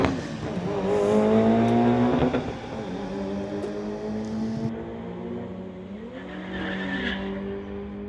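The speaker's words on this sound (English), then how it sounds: "So Mitsubishi Evo 9 driven by Nolan going against the Passat." A Mitsubishi Evo 9 and a Passat race at a street-legal drag event, with loud engine roar, rising revs and squealing tires that ease, then swell again.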